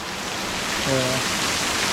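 Steady rain falls as a dense, even hiss throughout, with a brief voice rising over it midway.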